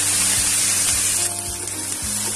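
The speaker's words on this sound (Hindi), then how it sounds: "3-4 हरी प्याज को काट कर लिया है, इसे हम हल्का हल्का भून लीजिए।" Chopped green onions sizzle steadily in a hot pan while being lightly sautéed for an aloo gobi curry, a close, even crackle with no talking.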